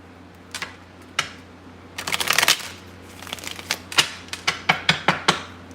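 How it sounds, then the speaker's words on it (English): A deck of cards being shuffled during a card reading, with soft riffles and several sharp, quick flicks and snaps that come in a loose rhythm, close and fairly quiet. "One more shuffle."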